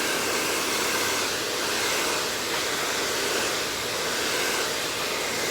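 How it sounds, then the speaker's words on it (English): RevAir hair dryer running steadily on medium heat, a loud continuous broadband airy whoosh, close and unbroken with no talking. "And I have my blow dryer on, this is regular medium heat, this is not very high heat."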